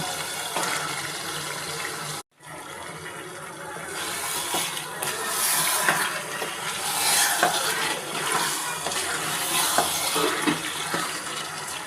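Beef hits hot oil in a pan while cooking rezala, setting off a loud, dense, continuous sizzle right after a brief gap.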